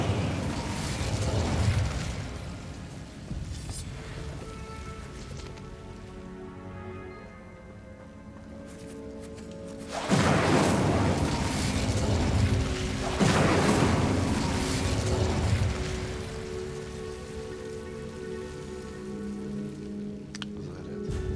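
Incendio fire spell blasts in Hogwarts Legacy, heavy whooshing fiery bursts that flare up loudly in a few surges with sustained roaring rumble between them, close and dense, no voices.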